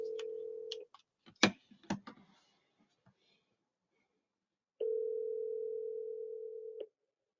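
A phone call rings out while a number is dialed, with two long steady ring tones separated by a few faint clicks and near silence.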